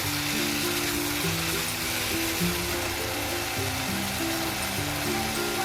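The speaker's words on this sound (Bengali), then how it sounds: "লবণ দিয়ে খুব ভালো করে আর একটু কষিয়ে নেব।" Fish curry spices with salt fry in a pan for a light Bengali shol fish and ridge gourd curry, a steady close hiss of sautéing under a low, even droning hum, with no talking.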